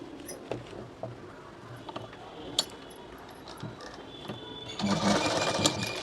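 Sewing machine stitching small tucks on a girl's blouse, quiet clicks and handling at first, then a louder burst of steady stitching near the end.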